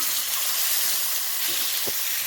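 Ajwain, cumin and crushed raw mango chutney frying in hot oil, a loud, steady, close hiss of sizzling that stays unbroken throughout, with faint stirring taps underneath.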